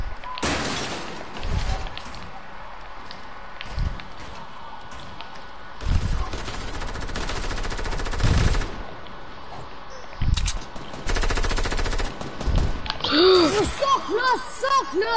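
Fortnite Season 6 gunfire: sharp, loud shots recur at irregular intervals amid game noise, with build-battle effects and tonal chimes toward the end, and a player talking between shots.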